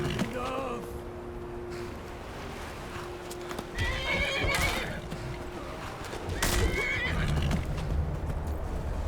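A horse in Skyrim neighs loudly in a few whinnying bursts over clip-clopping hooves and ambient game sounds, with no talking.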